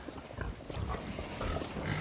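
Pigs oinking and grunting in a pen, a steady low, rough muttering of several animals that runs throughout, fairly close and continuous with no talk over it.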